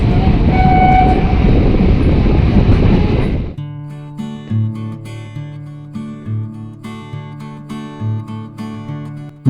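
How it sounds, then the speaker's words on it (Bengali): Kolkata suburban train travelling from Majerhat toward Dum Dum past Prinsep Ghat, a loud rumbling roar of the moving carriages for the first few seconds that cuts off abruptly into soft tonal music. "আমাদের ট্রেন এখন এগিয়ে চলেছে পরবর্তী স্টেশন ইডেন গার্ডেনের দিকে"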